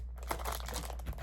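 Plastic wrapping crinkling as it is pulled off a Moyu WRM 2021 speedcube box, a steady close rustle of thin film lasting about a second with no voices.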